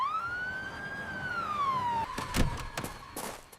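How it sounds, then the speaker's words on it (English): A loud ambulance siren wails in one long rising and falling sweep, then gives way to several sharp thumps and knocks close by. "I can hear the loud siren."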